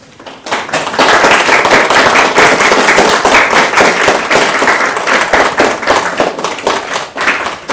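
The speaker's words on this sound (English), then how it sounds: "Let's clap for them." An audience claps in welcome, with loud, sharp, dense hand claps starting after a brief pause and running continuously for several seconds before thinning out near the end.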